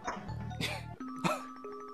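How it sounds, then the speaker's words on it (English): A two-tone ding-dong doorbell chime rings inside a house in the Dark Seed adventure game, with a low synthesized tone first and a brighter chime after, set against quiet game music. "Uh-oh, the doorbell."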